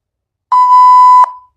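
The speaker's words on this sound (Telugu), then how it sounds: "బీప్ సౌండ్లు మనం యూజ్ చేస్తూ ఉంటాం కదా." A single electronic beep effect from the InShot video editor: one steady, clean, loud tone lasting under a second, heard alone with a soft click at each end.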